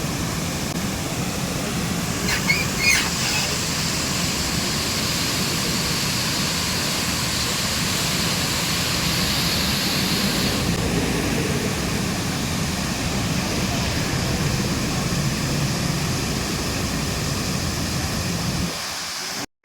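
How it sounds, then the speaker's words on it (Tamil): Water released from Mattupetty Dam in Munnar rushes in a steady, broad roar that holds for nearly twenty seconds before cutting off abruptly. "மாட்டுப்பட்டி டேம்லேருந்து தண்ணி வெளில வரதையும் பார்த்தாச்சு"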